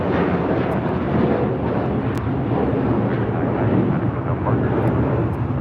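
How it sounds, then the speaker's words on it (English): A roaring jet engine rumble from an American Airlines Airbus A321 taking off at LAX, a loud, steady broadband roar that holds throughout with no pauses. "This is American Airlines 990 taking off to Atlanta on an A321."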